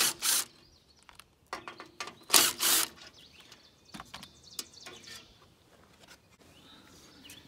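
A small side guard being removed from a tractor to reach the alternator, with close metallic clicks, rattles and scraping taps in irregular bursts and quiet gaps, no talk.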